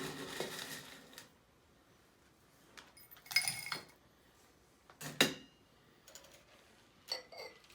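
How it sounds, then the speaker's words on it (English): Ice cubes dropped into a glass for an amaretto sour: several separate bursts of clinking and clattering, close and fairly faint, with quiet gaps between them. "let's put some ice in the glass"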